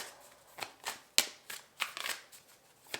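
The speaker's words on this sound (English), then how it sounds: "If I want to keep shuffling with more tarot, we'll see." Tarot cards being shuffled during a card reading, a run of soft papery riffles and sharp flicks in uneven bursts, close and fairly quiet, with no talking.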